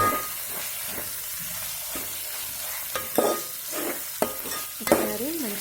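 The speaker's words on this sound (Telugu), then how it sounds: "ఒకసారి మంచిగా కలిపేసుకుంటున్నాను" A spoon scraping and stirring mutton curry with ginger in a hot pan, soft sizzling throughout with several distinct scrapes and knocks toward the end.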